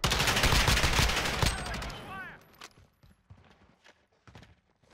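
Rapid bursts of loud M14 rifle fire in the first two seconds of a Modern Warfare Gunfight match, followed by scattered fainter shots and game sounds.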